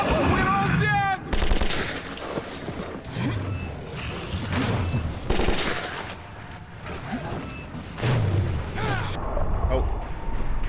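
Bursts of gunfire in the Metro 2033 video game ring out amid creaking, clanking machinery and shouting voices, the shots dense and loud through much of the stretch.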